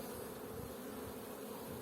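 A honeybee leaving a weak nucleus hive gives a brief, faint, steady hum, close and alone.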